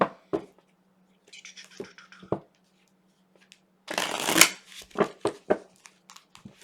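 A deck of cards is shuffled by hand in several bursts: a brief riffle, a few taps and squares, then a longer, louder riffle and more taps, close and clear in a quiet room.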